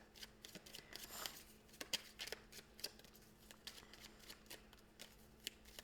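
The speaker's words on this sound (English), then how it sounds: "Just give it a good shuffle here." Small tarot cards being shuffled by hand, a quiet run of soft riffling and flicking taps with a few sharper snaps, close and alone.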